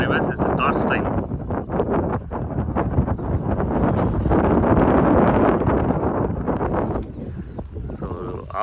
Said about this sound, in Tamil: ஆஃப் சைடில் காற்று இருக்குது